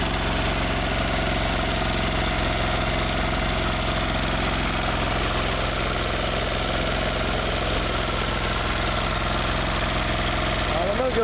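A Cub Cadet 3205 garden tractor engine with badly adjusted valves runs steadily nearby, a continuous rough idle with a ticking, knocking edge that holds at constant loudness throughout.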